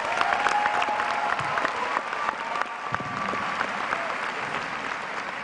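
A graduation audience at a high school commencement ceremony claps steadily throughout, a dense, sustained wash of applause from a large crowd.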